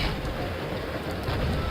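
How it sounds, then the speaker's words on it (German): Flamethrower firing in the Soldier of Fortune video game: a continuous, dense roaring whoosh that holds steady and fairly loud for under two seconds. "Oh Gott, Flammenwerfer."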